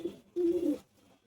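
A male Madras Andara line pigeon gives a short, close coo: a brief soft note, a pause, then a longer rolling croon that fades into quiet.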